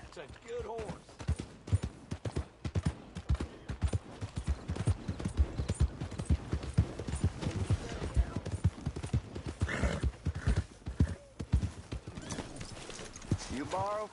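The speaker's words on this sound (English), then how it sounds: "That's a good horse." Horse hooves clip-clop steadily on the ground in the Red Dead Redemption 2 video game, a close, regular rhythm running throughout under character speech and an occasional whinny.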